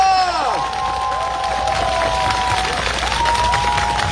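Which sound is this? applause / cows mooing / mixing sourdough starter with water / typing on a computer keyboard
applause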